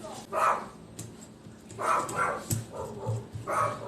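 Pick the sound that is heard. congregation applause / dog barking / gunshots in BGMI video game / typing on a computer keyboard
dog barking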